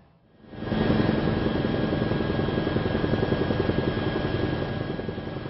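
A news helicopter flies over autumn foliage on Ulleungdo island, its rotor thumping and turbine whining as it swells up quickly and then holds loud and close.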